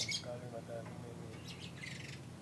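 Lovebird squawking and chirping in bright sunshine after being bathed with detergent, short harsh calls repeating near the bird over a steady background hum.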